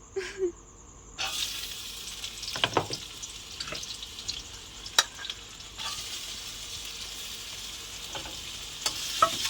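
A spatula stirs food frying in a pan late at night, an even sizzle heard close by with scattered scraping strokes and light clinks and no talking.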